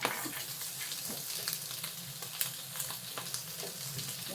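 Fish cake sizzles steadily in a hot pan, a dense even crackle with small pops and the occasional scrape of stirring, heard close up with no talk.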